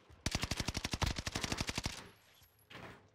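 Rapid automatic gunfire from the video game Warzone, a long burst of evenly spaced loud shots lasting nearly two seconds, followed by a softer swell of game noise with no talking.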